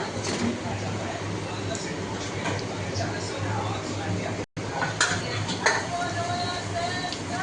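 Sea fish tipped into a pan of cooked, fried-down spices, producing a steady sizzle with light clinks of utensils against the pan, brief and close, while a person talks over it.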